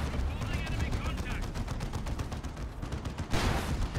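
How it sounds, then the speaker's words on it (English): Leman Russ tanks and other units fire in a Dawn of War 2: Retribution battle, a dense, continuous rattle of rapid gunfire and explosions with commentary talk over it. "But the Lehman Russ shooting the crap out of them"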